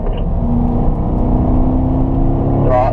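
A race car accelerates out of a corner on a Nevada track, its engine a loud, close, steady droning hum that climbs gently in pitch, with no voices.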